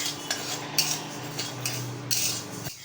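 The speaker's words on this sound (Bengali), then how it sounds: "এই মুগের ডালটাকে ভালোভাবে একটু উইদাউট তেলে তেল ছাড়াই ভেজে নিচ্ছি" Mung dal dry-roasted in a pan without oil, with repeated scraping and clinking of a utensil against the pan in an irregular rhythm, up close and without speech.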